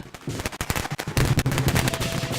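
Rapid crackling bursts of firecrackers popping in dense, irregular volleys at a Chinese New Year parade in Chinatown, loud and close, with a continuous rattling barrage building toward the end.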